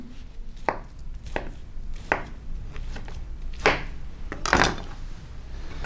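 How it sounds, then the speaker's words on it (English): A knife chops through sweet potatoes on a cutting board, several distinct thuds spaced irregularly, close and clear with no talking. "We'll start with some sweet potatoes grown here in California, but of course, and we'll chop them up."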